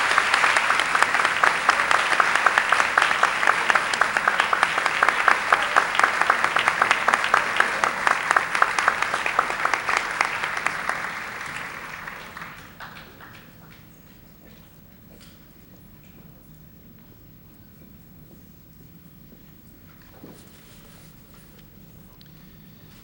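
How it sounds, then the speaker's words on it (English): Applause from an audience at a high school awards assembly, a dense sustained clatter of many hands for about eleven seconds before tapering off into quiet room noise with scattered small sounds. "Let's give them a round of applause."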